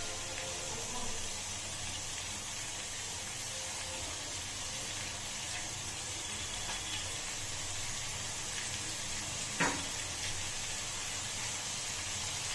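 Ginger garlic paste sizzles in a pan over medium heat while chicken dum biryani is prepared, a steady, broad hiss running throughout with one brief clink near the end.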